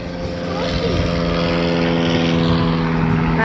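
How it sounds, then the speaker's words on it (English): A propeller airplane passes overhead during a 4th of July fireworks evening, its steady droning engine growing louder over a few seconds while people talk nearby. "There's a plane"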